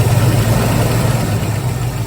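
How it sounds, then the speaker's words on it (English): A 1983 Ford Mustang GT engine idles steadily close by, a constant low rumble with a faint mechanical hum, no voices over it. "I'll show you how it can rev up if you're nice and easy with it."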